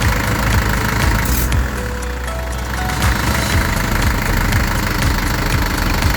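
A diesel engine runs after its injection pump has been adjusted, idling with a loud, steady knocking rhythm and a constant mechanical rumble throughout.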